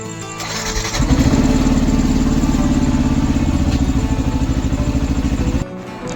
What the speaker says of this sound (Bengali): আর এই যে আমার বাইক।